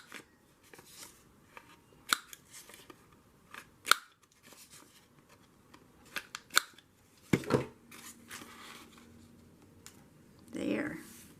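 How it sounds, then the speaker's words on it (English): Scissors snipping the corners off small paper cards, a series of sharp separate clicks and crunches spaced a second or two apart, close and fairly quiet, with some rustling toward the end. "I like to cut the corners."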